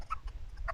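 A Basilan native chicken gives a few short, soft clucks in quick succession, close by and alone.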